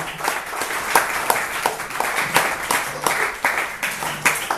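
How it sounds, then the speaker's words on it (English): Audience applause at a cricket club awards night, loud, close clapping from a room of people with distinct sharp claps in an uneven rhythm, swelling and dipping throughout. "So for Eddie, one more round of applause for him."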